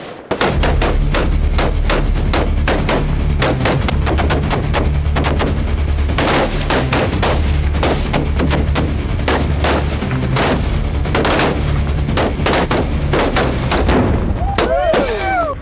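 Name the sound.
rifle gunshots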